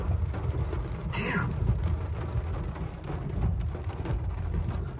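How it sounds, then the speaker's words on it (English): Heavy monsoon rain roars steadily and close, with a low rumble of thunder running underneath through a thunderstorm downpour. "right when you see the lightning, you basically hear the thunder right away"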